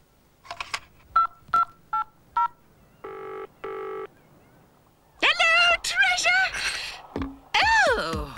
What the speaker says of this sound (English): You could let me use your portable phone instead.